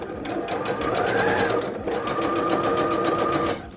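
Sewing machine running steadily while stitching scrunchie fabric, a continuous close whirring hum for nearly four seconds with one brief pause, no talk.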